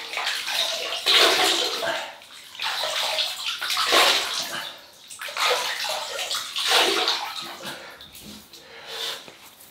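Water splashes and sloshes close by in repeated bursts as a face is wetted at a sink before a shave with a double-edge razor and shaving cream, with brief pauses between scoops.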